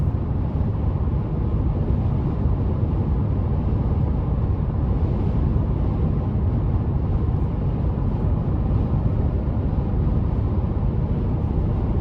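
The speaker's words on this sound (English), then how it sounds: "I can hear the tires a bit" Steady low rumble of tire and road noise inside a 2025 Toyota Tacoma TRD Off-Road cruising on the interstate, a constant dense drone with no voices.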